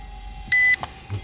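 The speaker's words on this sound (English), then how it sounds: "Now we have that awful beeping" A single short electronic beep from a Syma X22W toy camera drone switching into headless mode, high and clear, over a faint steady tone and light handling noise.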